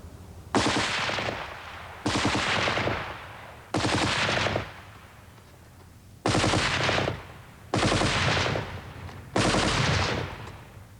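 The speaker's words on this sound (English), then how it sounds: "The Vickers, a medium machine gun solidly mounted on a tripod and fed by a belt of ammunition, has been called the concentrated essence of infantry." A tripod-mounted, belt-fed Vickers medium machine gun fires six long sustained bursts, each a loud rapid rattle lasting about a second or more, separated by brief pauses.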